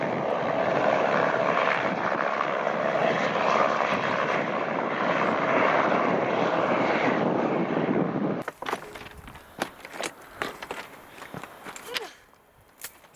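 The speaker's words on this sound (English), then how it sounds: "Here's that noisy helicopter again." A steady helicopter drone hauling supplies in Nelson Lakes National Park fills the first two thirds, loud and continuous, then cuts to quieter outdoor sounds with scattered knocks and rustles.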